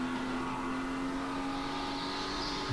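A SuperLeague Edison Supercharged race car runs at full throttle through a fast section of the course, its engine a steady, sustained drone with a constant pitch and no talking.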